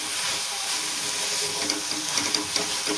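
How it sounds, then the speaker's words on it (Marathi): Tomato frying in oil in a pan for a vegetable curry, giving a loud, continuous close sizzle with faint clicks and crackles and no voices. "आता हा टोमॅटो आहे आपल्याला हा छान तेलामध्ये शिजून द्यायचा"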